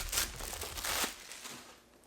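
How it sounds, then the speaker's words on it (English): Plastic bag wrapped around a GoPro Hero 9 camera box torn open by hand, a brief close crinkling and ripping burst lasting about two seconds, with no talking. "So it did come like this in this plastic bag,"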